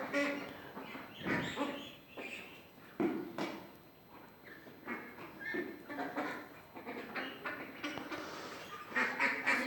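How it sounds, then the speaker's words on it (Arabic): Domestic ducks kept in a backyard during cold winter weather quack repeatedly in a busy, overlapping chorus of nasal calls, fairly close and continuing throughout with no talking. "البط حلو اهو ورايق"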